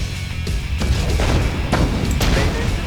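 Cannon fire in the real-time strategy game Red Alert 2, coastal guns pounding Allied destroyers: dense, continuous rumbling booms and blasts overlapping with no gaps, loud and close throughout.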